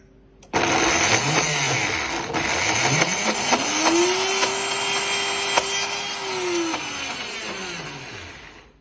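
A blender grinds hazelnuts, starting slowly and then ramping its motor pitch up, holding a steady high whine, and winding back down, with the nuts clattering and cracking inside the jar throughout.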